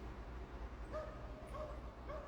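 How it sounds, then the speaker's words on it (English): Several dogs bark and yip outdoors at a distance, short scattered barks over a steady background rumble, fairly faint and without talk. "There's a lot of barking doggies out there today."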